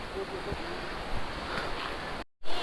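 Water of the Zenith waterfall near Khopoli rushes in a steady, broad roar, with faint voices and wind buffeting mixed in before a brief cut-out near the end.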